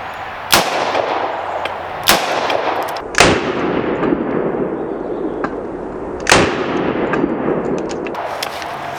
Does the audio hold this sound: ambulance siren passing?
no